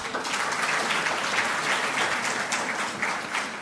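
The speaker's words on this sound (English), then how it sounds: "Let's clap hands for them." An indoor audience at a community event gives lively sustained applause, dense overlapping claps filling the room for several seconds.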